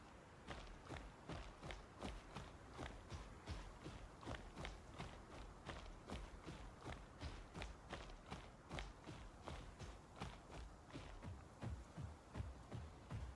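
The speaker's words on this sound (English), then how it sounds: "Pretty sure I heard some footsteps that way." Steady run of heavy dinosaur footsteps in the game Path of Titans, a rapid, even rhythm of thuds and scrapes continuing throughout at moderate level with no talking.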